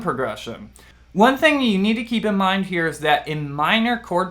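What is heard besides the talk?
No everyday noises stand out.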